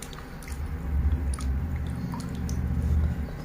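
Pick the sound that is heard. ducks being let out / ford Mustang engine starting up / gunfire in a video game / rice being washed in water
rice being washed in water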